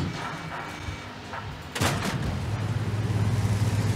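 A tank in an online video game fires one sudden loud boom partway through, cutting across a background of engine drone and game noise, followed by a steady mechanical hum.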